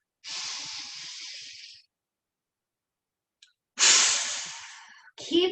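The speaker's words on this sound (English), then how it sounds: "Keep your strong breathing." Forceful breaths during a yoga exercise: two long, loud, hissing exhales separated by a quiet pause, the second cut off as another sharp breath begins, with no talking.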